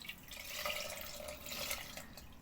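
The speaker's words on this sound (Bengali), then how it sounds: "একটু জল দিই" A little water is poured into a cooking pot, a faint, soft splashing trickle lasting a couple of seconds.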